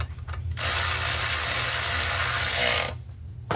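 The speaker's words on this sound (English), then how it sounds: "We'll bolt it down." A hand ratchet tightens bolts while mounting a Murray 4.5 hp push mower, giving one sustained, fast, loud clicking run of about two and a half seconds, close by, framed by quiet moments before and after.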